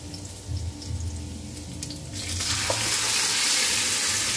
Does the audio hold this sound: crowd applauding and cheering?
no